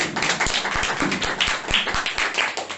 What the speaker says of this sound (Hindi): एक जोरदार ताली बजाए प्रभु के लिए।